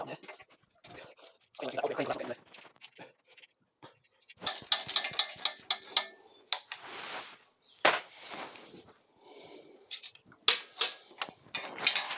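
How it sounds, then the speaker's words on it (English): A ratchet undoes two bolts holding a front bracket on a Yamaha TZR 125 motorcycle, with bursts of rapid clicking and metallic mechanism sounds separated by short pauses, close and moderately loud. "we're going to undo these two bolts here, and hopefully that should release this bracket at the front here"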